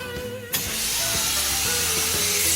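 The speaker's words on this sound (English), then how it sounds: "This is a replica of one of the most famous steam engines of all time, the Rocket, built in 1829 by George Stephenson" Steam bursts into a loud, sustained hiss from a replica of Stephenson's 1829 Rocket steam locomotive, starting abruptly after a brief low mechanical rumble and continuing steadily close by.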